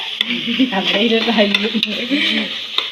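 Chicken being stirred in a hot pan with ground masala, ginger and garlic paste, a steady close sizzle broken by soft scraping and clinks from the spoon against the pan.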